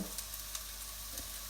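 Chopped onions sizzle gently in a saucepan while a seafood blanquette is being prepared, a quiet, steady frying hiss with faint crackles and small stirring sounds, no talking.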